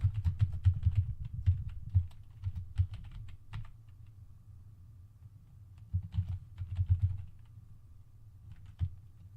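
Computer keyboard keys tapped in quick bursts while a password is entered on a fake login page, close and fairly quiet, with a pause midway before another short run of typing.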